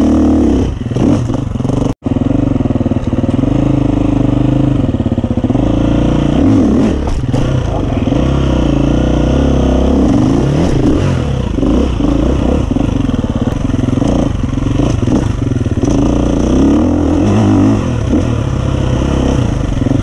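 A 2021 Gas Gas EC350F dirt bike ridden off-road, its loud engine droning and revving continuously up close with rough clatter from the terrain, broken by one brief dropout.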